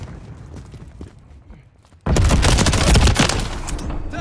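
Heavy gunfire in the Call of Duty Modern Warfare 3 video game: quiet footsteps and faint shots at first, then a sudden loud eruption of rapid automatic fire and blasts that keeps going to the end.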